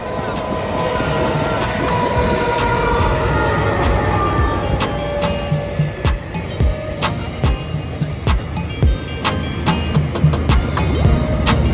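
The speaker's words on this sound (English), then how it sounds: "We've all just quickly pulled off to see the freight train." A long freight train clatters past nearby, a sustained rumble broken by regular rhythmic clicks of wheels over rail joints.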